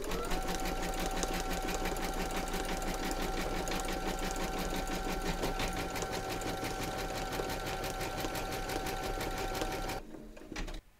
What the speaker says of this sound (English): You're now going to pop your hoop into your machine and stitch round number three